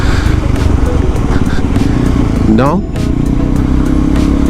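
A KTM 390 Adventure single-cylinder engine fitted with a PowerTRONIC ECU runs loud and steady while riding, with a brief rising rev sweep midway and a rider talking over the engine noise.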